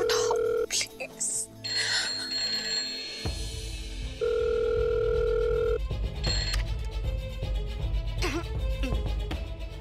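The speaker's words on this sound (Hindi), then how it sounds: "लैंडलाइन पे ट्राई करते हैं। फोन उठाओ प्लीज प्लीज प्लीज प्लीज, कोई फोन उठाओ प्लीज।" A landline telephone rings in a TV drama scene, repeated electronic ring tones cutting in and out amid tense music and a voice speaking, loud and close.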